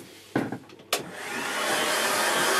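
Hair dryer blowing steadily over a watercolour painting, switching on after a couple of soft clicks and building into a continuous broadband whoosh that holds close and loud to the end.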